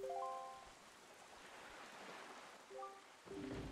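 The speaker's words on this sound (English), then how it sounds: "this place suffers under dark clouds and rain" Steady rain falls on a cursed island under dark clouds in Zelda: Wind Waker HD, a broad hissing wash with brief musical tones over it and a louder swell near the end. No one talks.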